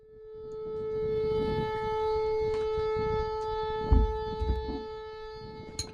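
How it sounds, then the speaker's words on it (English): A malfunctioning tornado siren holds one steady, droning wail with faint harmonics, under rumbling wind and scattered thumps, continuous for the whole stretch. "it's likely just a malfunctioning tornado siren"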